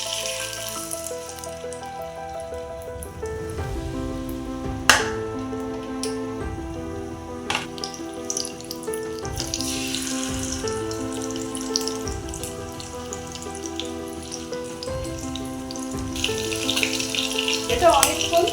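Pomfret fish sizzles steadily in hot oil with a little ghee, a continuous frying hiss that runs beneath louder melodic background music for the whole stretch.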